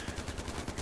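Rapid gunfire from Far Cry 4 on a custom map: a dense string of automatic shots in steady bursts, loud and close, with no voices over it.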